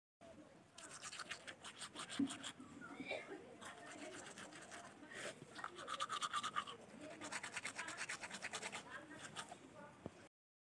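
Rhythmic bristly scrubbing of a toothbrush on teeth, close and fairly steady, coming in repeated bursts with short pauses, with a faint voice or two now and then in the background.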